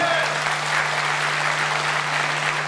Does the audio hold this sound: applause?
yes